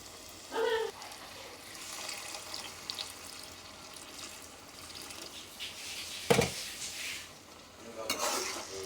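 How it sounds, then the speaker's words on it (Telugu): Water pours steadily and faintly into a pan of egg and potato curry, a soft continuous splashing with a few light metallic clinks. "కొంచెం వాటర్ వేసుకోవాలి"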